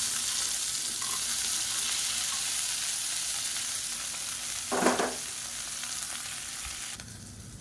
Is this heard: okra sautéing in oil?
yes